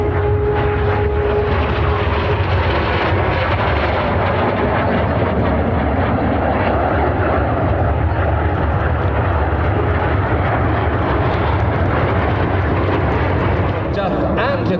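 Frecce Tricolori military jets crossing at a Sunday airshow in Sacramento, a loud, continuous broadband roar of jet engines lasting throughout, with crowd and announcer-like voices faintly mixed beneath.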